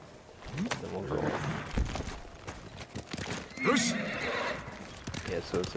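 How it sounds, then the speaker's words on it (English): A horse whinnies loudly in a game soundscape, with hoof clops and other effects around it and a voice talking at times. "I'll call my horse."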